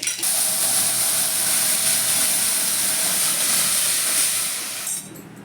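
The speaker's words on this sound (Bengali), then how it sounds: "এবার আমি সর্ষেটা দিয়ে দিচ্ছি।" Black mustard seeds hit hot oil for a tempering of dry red chilli and mustard, bursting into a loud, steady crackling hiss that holds evenly for about five seconds before dropping off abruptly.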